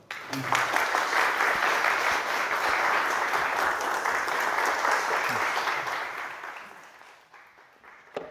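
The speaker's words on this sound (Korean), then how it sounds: "박수로 한번." A steady, dense round of audience clapping welcomes a speaker at a church gathering, beginning at once, holding evenly for about seven seconds, then tapering away.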